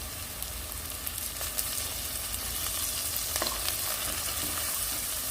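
Curry leaves frying in oil in a pan for Goan chicken xacuti, a steady close crackling sizzle with occasional sharper pops and light stirring, no talk.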